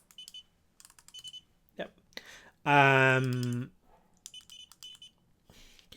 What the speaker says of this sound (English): beeps when you change the power